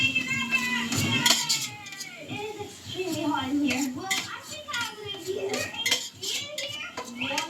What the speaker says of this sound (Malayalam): തൈര് ആഡ് ചെയ്തിട്ട് ഒന്ന് മിക്സ് ചെയ്ത് കൊടുക്കാം.